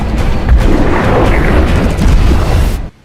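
A sonic boom from a superhero film, Batman v Superman, as a hero swims through the sea: a very loud, deep, rumbling blast sustained for nearly three seconds before cutting off abruptly.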